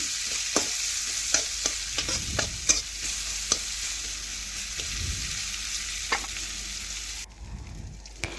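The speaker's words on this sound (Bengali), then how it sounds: "পেঁয়াজ একটু আমি লাল লাল করে ভেজে নিচ্ছি" Chopped onion fries in a little oil for a katla fish mustard curry, giving a soft, steady sizzle broken by sharp clinks and scrapes of stirring, with no talking.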